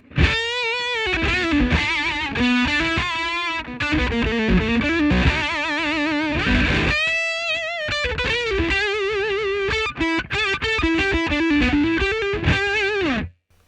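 An electric guitar runs through a Marshall BluesBreaker BB2 overdrive pedal with the drive maxed. Thick, saturated lead lines with vibrato and bends play continuously and loud, then the guitar cuts off abruptly at the end.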